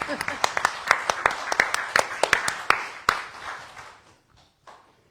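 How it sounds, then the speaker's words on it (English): Audience applause at a church celebration of gratitude and faith, a few distinct sharp hand claps ringing out close and rhythmic, fading after about four seconds with one last clap. "So let's everybody give everybody a round of applause"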